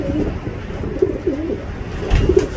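Van den Bosch pigeons coo steadily in a loft, a low throaty rolling murmur from several birds close by, continuous over background rustle.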